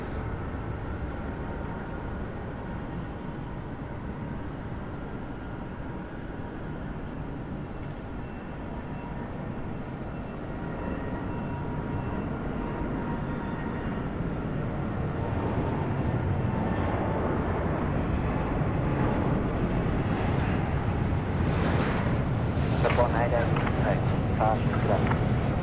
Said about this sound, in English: I can hear a spool up down there. It's our All Nippon Airways friends, and they are ripping it out.